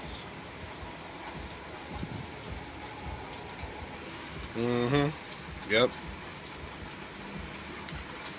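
Rain falling during a rainy day, a steady soft patter filling the background while someone talks nearby in short bursts.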